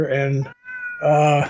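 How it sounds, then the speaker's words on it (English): A pet cat meows twice, loud and close, with a short pause between the calls. Someone speaks briefly in the pause. "Folks out there, you hear my cat"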